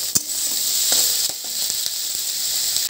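Ginger-garlic paste hitting a hot wok and sizzling loudly, a steady bright hiss with a few sharp clicks of stirring, no voices.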